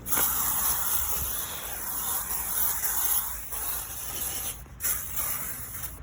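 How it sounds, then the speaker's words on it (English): Close hissing bursts of an aerosol spray inside a BMW E46 car, with a brief pause midway, in a small enclosed space. "I'm gonna spray it in there."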